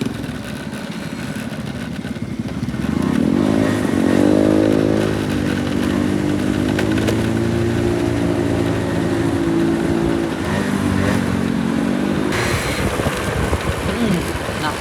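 Motorcycle riding on a group ride with a moto club, a steady engine drone with rising revs, close and continuous; a voice speaks over it.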